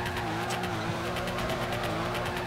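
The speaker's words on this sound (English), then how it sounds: "Scraping the wall" Drift car scraping along a wall in the Torque Drift racing game, a steady grinding roar of engine and tyre noise with rhythmic scraping bursts, loud and continuous throughout.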